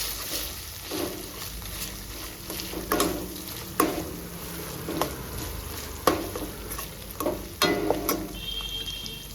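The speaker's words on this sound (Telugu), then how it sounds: "ఇది బాగా ఫ్రై చేసుకోవాలండి అల్లం వెల్లుల్లి పచ్చివాసన పోయేంత వరకు ఫ్రై చేసుకోవాలి" Gentle sizzle of ginger and garlic frying in a pan, broken by sharp spoon scrapes and taps every second or so as the mixture is stirred.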